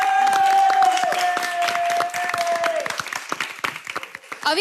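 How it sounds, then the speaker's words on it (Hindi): A studio audience claps on a reality show stage, a busy patter of hands over a held musical tone, thinning into scattered claps and bursts toward the end. "बजाओ ताली।"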